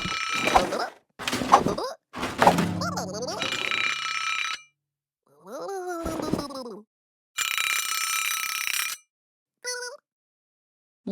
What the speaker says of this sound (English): Little Blue uses an alarm clock to wake up in the morning.